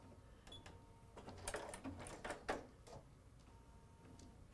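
A sewing machine stitching the sides of fabric together for a pincushion angel, running in short bursts of rapid mechanical ticking, close and moderately loud, with no talking.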